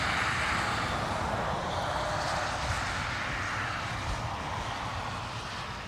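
Aircraft engine noise at Dublin Airport as a plane lines up on runway 10 right, a steady broad roar held at an even level throughout and easing slightly toward the end.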